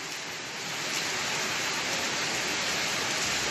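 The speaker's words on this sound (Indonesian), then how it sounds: "di sini kita lihat hujan deras" Heavy rain pours down at night, a dense steady hiss that swells slightly in the first second and then holds constant and fairly loud, with no voices.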